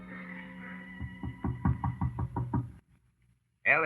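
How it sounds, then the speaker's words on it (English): Series of knocks on a door in a radio drama, about eight fairly even raps in quick succession, close and distinct, followed by a short silence and then a voice beginning to speak. "Her father knocks at the door."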